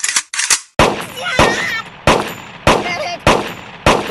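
Sharp gunshots from an iPhone shooting video game ring out in a quick, uneven series of about half a dozen loud, close cracks, each ending abruptly with no talking.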